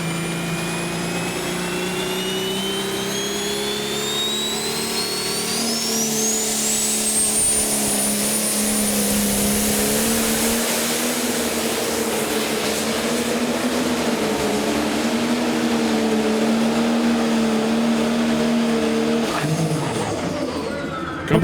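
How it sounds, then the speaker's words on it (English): Massey Ferguson pro stock pulling tractor named Beyond Limits at an Ellsworth pulling event, a loud sustained engine roar rising in pitch with a high whine, holding strong throughout with no talk over it. "here comes another beautiful machine. This one a Massey Ferguson called Beyond Limits,"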